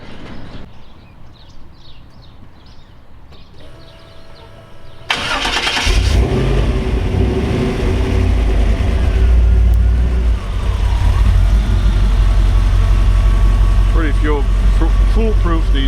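A 1955 Ford F-100 custom truck's Ram-Jet 350 V8 cranks and fires about five seconds in, then settles into a loud, steady, deep idle that rumbles on to the end; speech is faintly heard before the start.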